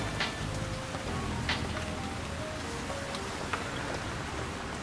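Steady rain falls outdoors as a soft, even hiss with occasional light drip ticks, faint and continuous throughout without talk.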